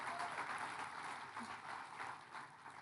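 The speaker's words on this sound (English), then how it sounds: "Give them a round of applause, because this really has been a team effort." Faint, steady applause from a conference audience honoring government ministers at the Alberta Recovery Conference, a soft, even wash of clapping with no voices over it.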